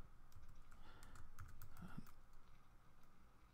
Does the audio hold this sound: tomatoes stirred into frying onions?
no